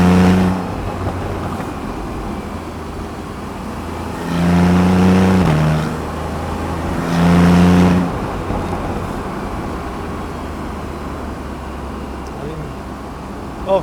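A Porsche 911 991.1 Carrera S Cabriolet in sport mode revs up loudly twice, its engine note rising in two strong surges over a steady road drone, heard from inside the car.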